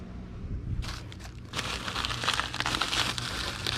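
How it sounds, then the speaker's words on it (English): Plastic wrap or packing paper crinkles and crumples in close bursts as a model kit or Pop figure is wrapped and taped for shipping, with a quieter pause before steady rustling resumes. "And we'll wrap this up and tape it."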